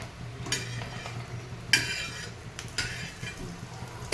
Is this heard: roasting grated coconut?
yes